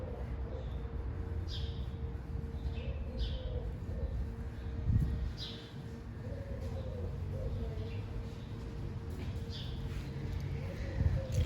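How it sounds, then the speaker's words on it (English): Birds chirp outdoors at a garden center, with short, faint high calls scattered over a steady background hum and occasional soft rustling. "Listen to the birds chirping."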